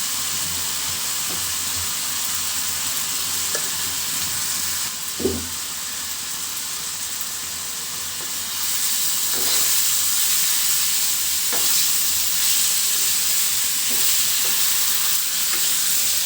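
Big fish pieces and potatoes fry with whole garlic cloves and turmeric, giving a steady broad sizzle that swells louder in the second half, punctuated by a few dull knocks and spoon scrapes, with no talking.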